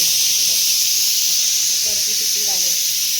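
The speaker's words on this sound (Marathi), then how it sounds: "कुकरची शिट्टी झाली." Pressure cooker whistle releasing steam in a home kitchen, a loud continuous high hiss through the whole stretch, with faint voices in the background.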